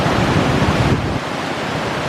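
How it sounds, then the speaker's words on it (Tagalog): Strong flash-flood current rushing during a typhoon, a loud, steady broadband roar of churning water that eases slightly partway through but continues without pause. "Lakas ng tubig o. Lakas ng agos."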